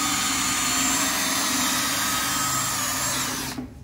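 Power drill running steadily with a 3/16 countersinking bit, boring into ribs of a kicker structure, a continuous close whine and grind that cuts off just before the end.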